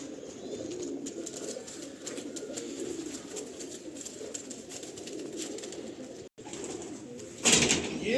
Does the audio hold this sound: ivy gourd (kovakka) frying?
no